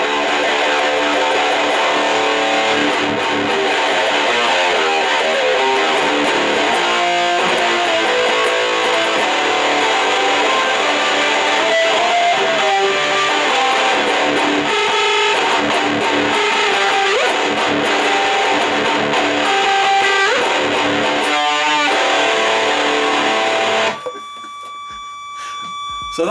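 Electric guitar played through a Behringer Ultra Metal UM300 distortion pedal at full distortion, loud, thick and sustained, with chords and riffs for about twenty-four seconds before a steady feedback whine takes over.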